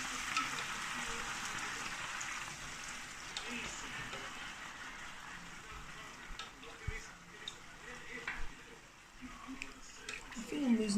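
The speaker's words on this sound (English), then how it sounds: "Oh, You've got a sizzle." Food frying in a pan while making mooncakes gives a steady broadband sizzle that runs throughout, fairly quiet, with occasional utensil knocks and people talking nearby.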